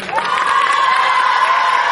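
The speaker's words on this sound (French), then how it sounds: "Si elle descend, on applaudit aussi." Brief, loud crowd noise at a community gathering in Treichville: voices cheer and call out together, with a whoop at the start, in a sustained, dense roar.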